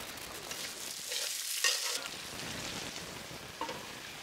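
Fish pieces frying in a pan of oil while pulao is being cooked, a steady close sizzle with a few louder bursts and stirring scrapes, no voices.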